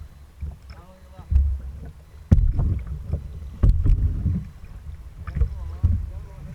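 Canoe paddling through river rapids, with splashes and paddle strokes under rushing water and wind on the microphone, while people talk between strokes.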